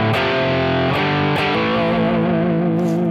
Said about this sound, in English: the farther I went, the harder I attacked to get more distortion